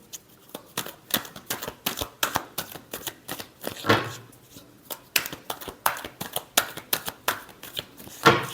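Tarot cards being shuffled by hand, a steady run of crisp riffling snaps and soft flutters close up, with no voice over them.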